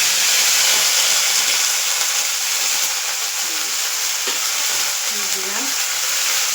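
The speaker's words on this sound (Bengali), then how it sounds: "এই দেখো তেলটা বসিয়ে দিয়েছি কড়াইতে" Oil sizzling and hissing steadily in a wok before drumstick-flower chorchori is cooked, loud and close, with faint voices briefly underneath.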